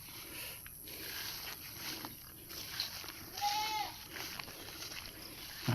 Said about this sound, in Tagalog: Ayan, nagtatawag na ang kambing.